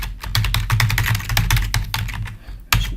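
Fast, close computer keyboard typing, a dense run of crisp key clicks with a brief pause near the end, alone with no talk.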